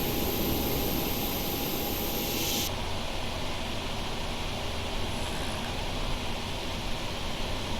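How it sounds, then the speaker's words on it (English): The right jet engine of a Boeing 777 in the PMDG flight simulator spooling up as a steady, loud broadband roar with a high whine that drops away partway through, continuous and close. "Start right engine."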